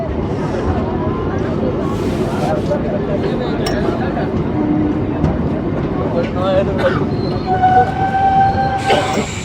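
A local train on the way to Santiniketan rolls into Khana Junction with a low, steady rumble of wheels on rails. Faint clinks and thin wheel squeals rise near the end, and people talk on board.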